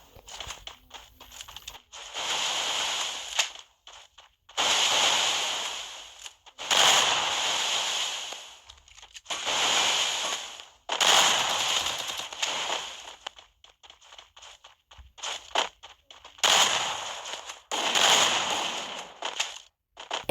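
Gunfire in the Free Fire video game during a 1v2 custom match: repeated bursts of sharp, crackling shots in clusters every couple of seconds, moderately loud, with quiet gaps between volleys and no talk.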